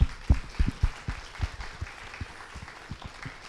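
An audience claps for finalists at a McGill social business summit, a short burst of scattered handclaps that starts strong and quickly thins out.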